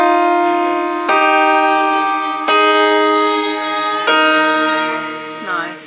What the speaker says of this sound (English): I'll play it on the piano for you.